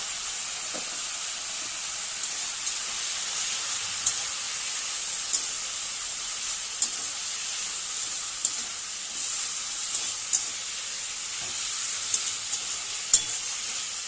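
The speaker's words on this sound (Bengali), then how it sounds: "জলটার সাথে কিন্তু মশলা দিয়ে কিন্তু কষিয়ে নিতে হবে ভালো করে" Spices, cumin powder and garam masala, are sautéed in a pan with a little water for a Bengali fish curry with yam and greens, giving a continuous bright sizzling hiss punctuated by occasional sharp stirring clicks, with no voices.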